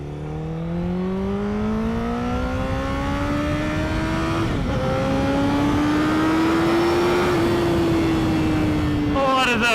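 A Ford Mustang engine revs loud and close, its pitch climbing steadily, dipping briefly, then rising again in one continuous run with no talking.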